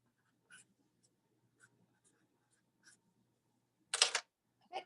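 Pen or pencil writing out Spanish word meanings on paper, faint and quiet: a few soft scratchy strokes spaced out over a near-silent background, then a louder brief scrape near the end.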